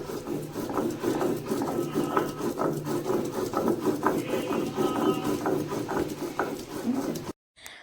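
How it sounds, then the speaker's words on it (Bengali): Mustard seeds and green chillies are ground into a paste for a hilsa mustard dish, a close, rhythmic rasping and rubbing that repeats steadily for several seconds before cutting off. "প্রথমে সর্ষে আর কাঁচা লঙ্কাটাকে বেটে নেব।"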